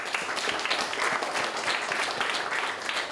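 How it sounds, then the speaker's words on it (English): An audience at an ICAI Dubai Chapter talk gives steady, sustained applause, many hands clapping together evenly for over three seconds with no talk on top. "Again, claps to all of you."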